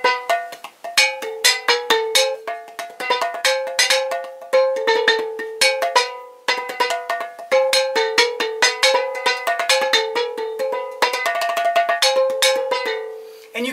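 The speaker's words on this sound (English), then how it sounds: "And you can hear the loose lid on those, but that one you hear that tighter sound" Five-quart mason jars struck as found percussion, some with loose lids, ring out in a busy rhythmic pattern of bright, clinking, bell-like hits at close range, with no talking.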